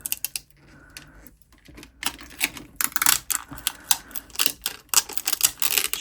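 Tape is peeled off a craft trinket tray in a series of sharp crackling rips and snaps, close and irregular, alone without talk.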